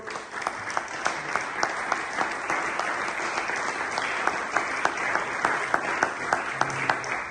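Sustained applause from a church congregation, many hands clapping steadily and fairly loud across the whole stretch, with no talking over it.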